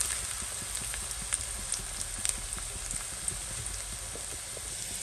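Whole spices such as cardamom and garam masala hit hot oil in a home kitchen, giving a steady crackling sizzle with scattered sharp pops and spits, close and continuous.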